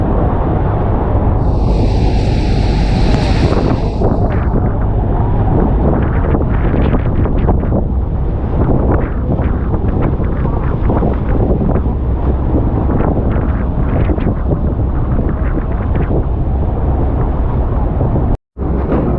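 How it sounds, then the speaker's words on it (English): Strong wind buffets the microphone on the open deck of a Hornblower cruise boat near Niagara Falls, a loud continuous roar with constant gusting rumble and no talk, lasting the whole stretch. "Really windy back there."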